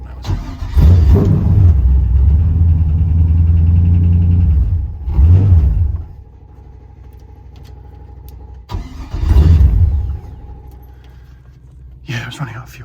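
Carbureted LS V8 swapped into a second-generation Firebird runs loud and close, its revs rising and dropping unevenly as it sputters and starves for fuel, then falls to a low stumbling idle with brief surges.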